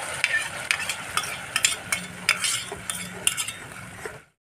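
Spice masala being fried in oil with whisked sour yogurt for a Bengali doi katla fish curry, stirred in a pan: a steady sizzle broken by repeated scraping strokes and light clinks of the spoon against the pan.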